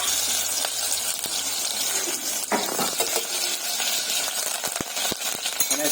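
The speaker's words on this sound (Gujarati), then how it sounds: "અહીંયા આદુ અને લસણ છે હવે નાખી રહ્યા છે અમે અંદર" Ginger and garlic fry in hot oil in a pan, a loud, continuous sizzle broken by the scrape and clink of stirring.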